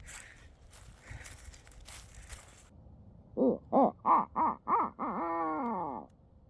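After some quiet rustling and steps during a turkey hunt in Ohio, a person imitates an owl with a rhythmic series of five hoots followed by a longer drawn-out hoot.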